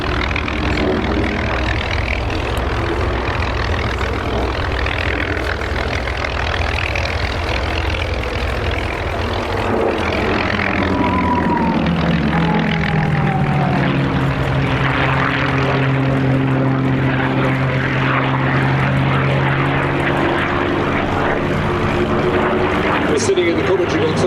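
Propeller warbird aircraft flying in formation at the Sywell Airshow 2024, with a loud, continuous engine drone that shifts pitch as the planes pass, under steady commentary.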